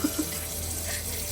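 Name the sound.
tap water rinsing homemade butter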